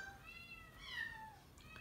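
A female cat, about four years old and spayed, gives a few soft, faint meows with rising and falling tones over quiet background hiss.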